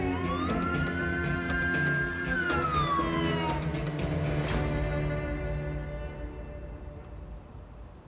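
A loud siren wails continuously, its pitch rising and falling in sweeping cycles, close by and dominating the scene with no voices over it.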